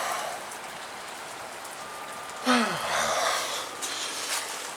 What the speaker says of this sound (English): it starts raining harder